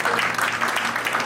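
A church congregation at a worship gathering claps and cheers in acclaim to the Lord, a dense, continuous burst of applause and shouts lasting about a second.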